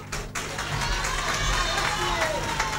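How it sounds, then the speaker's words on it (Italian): An Italian evening show audience applauds and cheers a singer, a steady crowd roar of clapping with scattered voices that holds level throughout. "quindi merita veramente un doppio applauso."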